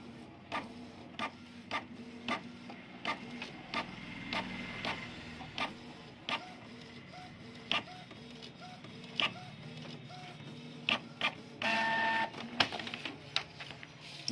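A Canon G-series inkjet printer with a print head fault runs through a print cycle: regular mechanical clicks and thumps repeating about every half second, with a longer whirring buzz near the end, steady and close with no talking.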